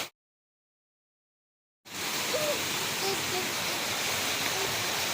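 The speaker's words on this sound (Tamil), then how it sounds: "சரியான மழை." Heavy monsoon rain pours down in Velachery, Chennai, a dense, steady broadband roar that starts abruptly after nearly two seconds of silence and continues loud and unbroken.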